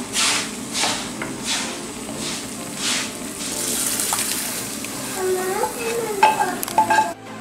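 Spice masala sizzling in a hot clay pot for a Kuttanad-style fish curry, with several rhythmic scraping stirs at first, then busier clinks and spatters near the end.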